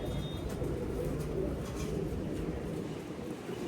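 A pigeon coos in soft repeated low calls against a steady outdoor hum and faint rustle, with no talking.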